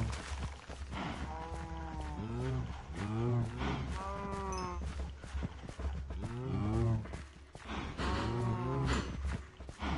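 Cows in the video game Minecraft moo repeatedly, several drawn-out bellowing calls overlapping at moderate volume while players chatter over them.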